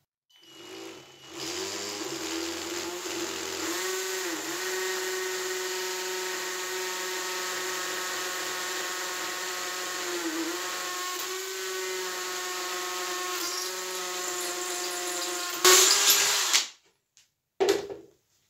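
A Graphite Energy+ 58G010 cordless impact drill whines steadily for about fifteen seconds with slight pitch dips as a worn bit bites into the wall, then stops with a brief clatter near the end.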